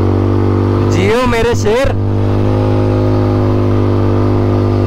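A vehicle engine revs loudly and close as the accelerator is pressed, with a steady strong hum throughout; a voice briefly shouts over it near the start.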